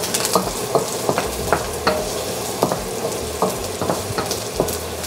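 Onion and ginger sauté in a pan with a dense, close sizzle, broken by a steady rhythm of spatula scrapes and clacks against the metal.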